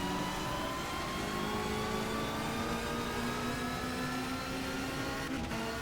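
Touring car engines from the 1992 BTCC season in Race 07 hold a steady, droning note with mid-range harmonics while the pack runs toward a turn at Brands Hatch Indy. The sound is continuous and loud throughout, with no voices.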